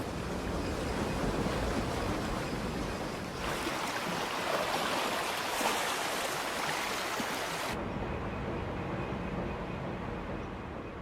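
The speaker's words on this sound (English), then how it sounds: "this pump can shift 100 tons of water every second, lifting it off the surrounding land and pushing it out towards the coast" Large fenland pumping station driving water off the surrounding land out towards the coast, a steady, loud broadband rush and roar of churning water that holds constant throughout, with no voices.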